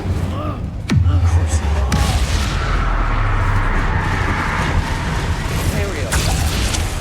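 Bombarda and Incendio spell blasts in Hogwarts Legacy, a sharp boom near the start and another shortly after, followed by sustained rumbling fire and battle noise, with a voice shouting spell names over it.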